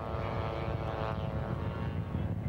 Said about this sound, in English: Jimmy Goad Jr. in the 1-800 Collect black biplane approaching pylon number one first